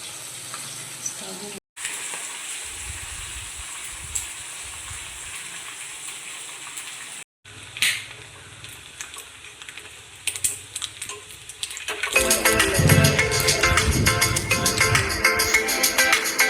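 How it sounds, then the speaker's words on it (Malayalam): Dried fish frying in oil left over from frying pappadam, a quiet hiss with stirring clatter that grows into a loud, dense crackling sizzle toward the end. "പപ്പടം വറുത്ത എണ്ണയിൽ തന്നെ നമുക്ക് ഉണക്കമീനും വറുത്തെടുക്കാം."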